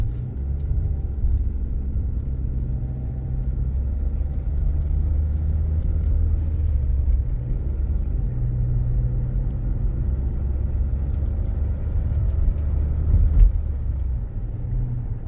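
A car on a test drive after gearbox repair work on a robotized transmission, with a synchronizer replaced for crunching third and fourth gears; steady low engine and road rumble continues throughout at an even level, with no voices.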